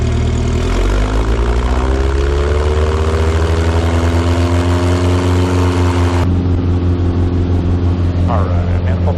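A Mooney light aircraft's piston engine and propeller roar loud and close during the takeoff roll, a steady heavy drone whose tone climbs smoothly as power comes up, then holds even.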